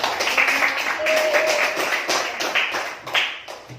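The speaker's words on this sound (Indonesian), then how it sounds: "Tepuk tangan untuk semua kelompok." Students in a classroom clap for all the groups, a short burst of uneven, close hand claps with distinct individual slaps fading toward the end.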